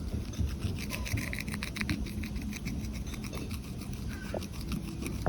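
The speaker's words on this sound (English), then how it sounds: "now they are ready to be polished with the hard smooth tool" A hard smooth tool rubs back and forth over bone-dry backyard pottery, a close, steady scratchy burnishing sound with rhythmic strokes and no talk.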